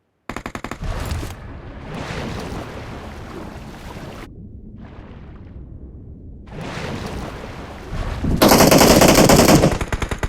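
Gunfire bursts ring out in the mobile game BGMI PUBG Mobile: loud rapid automatic fire in several bursts separated by short gaps, ending in a dense, intense volley.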